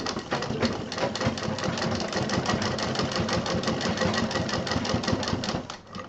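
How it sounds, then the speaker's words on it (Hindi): Sewing machine running continuously as it stitches a belt strap onto a homemade sling bag, a close, steady rapid rattle of needle strokes at even pace throughout. "जहाँ पर ये बेल्ट है हमारी, वहाँ पर डबल मशीन चलानी है।"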